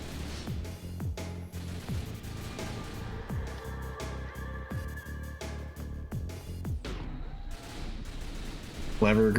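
Rapid gunfire in Resident Evil 6 rattles through a co-op session as repeated close shots in quick irregular bursts, with players talking over the shooting.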